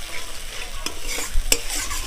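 Two large spoons of sour yogurt go into spice paste frying in oil for a Bengali doi potol (pointed gourd) curry, bringing a close, steady scrape of stirring over a soft sizzle with a few sharper clinks and no voices.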